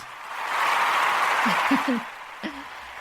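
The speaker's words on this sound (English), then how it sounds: "that deserves a round of applause" A round of applause swells for about two seconds as a dense, steady wash of clapping, then fades away, leaving a few brief fragments of a voice at the end.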